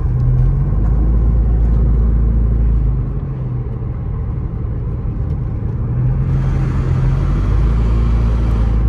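A car drives steadily through Fawnskin near Big Bear Lake, California, on a cold morning, its low engine and road rumble loud and continuous from inside the cabin with no talk.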